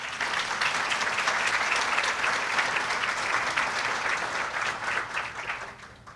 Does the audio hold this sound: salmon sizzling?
no